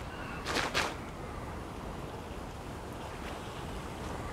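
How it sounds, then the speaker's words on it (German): Wind blowing in the video game Fountain of Youth, a steady airy rush like surf under it, with two brief louder gusts near the start before it settles back to a constant whoosh. "Ach, der Wind. Das war der Wind."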